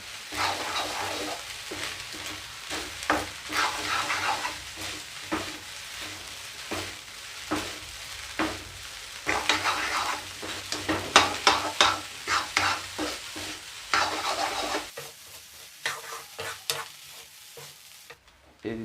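Egg fried rice is stir-fried and tossed in a pan over a high flame, giving loud, continuous sizzling and irregular scraping stirs close by, before the sound drops away near the end.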